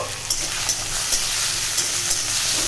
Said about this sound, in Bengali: এইদিকে আলুটা ভাজা হোক